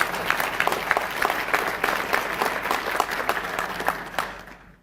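An audience at a county government address breaks into steady applause that rolls on for several seconds, then tapers off and fades to quiet at the end.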